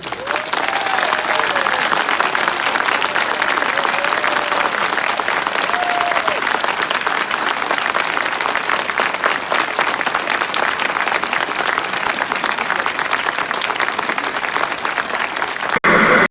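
Studio audience on a French talk show giving sustained, loud applause, dense and unbroken for the whole stretch with no pauses.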